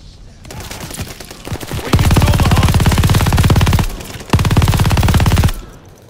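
Heavy automatic gunfire in the Call of Duty multiplayer Hardpoint mode, loud sustained bursts with short gaps between them, set against a fading battle din.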